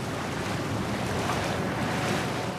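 Water from huge canal lock sluices rushes out in a steady, dense roar that fills the whole clip with no break and no voices.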